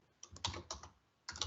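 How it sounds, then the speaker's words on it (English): Typing on a computer keyboard during a spreadsheet data-entry demo: quiet, close clicking keystrokes in a few short bursts, alone with no talk. "So I'm going to type here"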